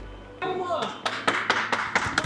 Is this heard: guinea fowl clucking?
no